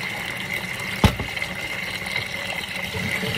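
Cotton yarn rinsed in water, a steady close wash of running and sloshing water with one brief splashy knock near the start, continuous throughout without speech.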